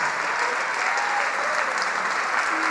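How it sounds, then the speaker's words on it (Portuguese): A church congregation applauds steadily, a dense, even wash of many hands clapping at close range with a faint crowd murmur and no pauses throughout. "Vamos aplaudir mais, igreja, que está chegando mais."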